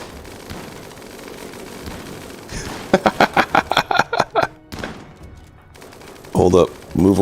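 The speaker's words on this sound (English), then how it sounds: "Miniguns are crazy." Bursts of rapid minigun fire in the RimWorld video game, a run of sharp rattling shots in the middle followed by another loud burst near the end, over a steady background.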